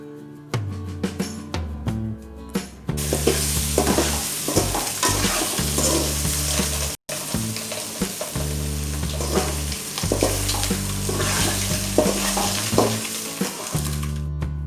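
Egg fry (muttai varuval) is stir-fried in a pan over a low flame, with continuous sizzling and repeated scraping strokes of a spatula, close and steady.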